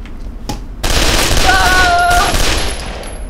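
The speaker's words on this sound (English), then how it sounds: "He really got that machine gun," A machine gun fires loud sustained bursts inside the video game Condemned: Criminal Origins, dense rapid rattling that abruptly kicks in after a quieter moment and stays heavy and close, with a ringing tone through part of the volley.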